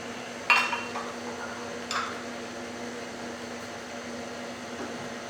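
An electric mixer runs on low, beating egg whites into orange dreamsicle cupcake batter. It makes a steady, moderate motor hum with a couple of brief clinks near the start.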